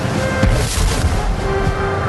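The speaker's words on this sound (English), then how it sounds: "Napoleon ordered a barrage of his most powerful cannon." Booming cannon barrage representing Napoleon's heaviest guns at Waterloo, several deep low thuds landing in a steady rumbling sequence, loud and continuous with no talk.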